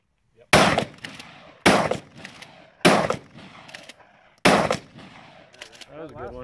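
Shotgun fired four times on a range, each blast loud, close and sharp with a rumbling tail, spaced roughly a second apart, and a voice briefly heard at the end.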